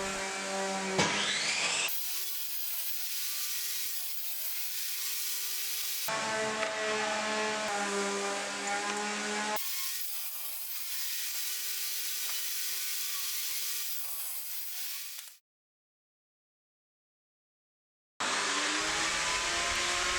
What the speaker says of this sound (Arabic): نقطع رفين من خشب السبيلي على المقاسات المطلوبة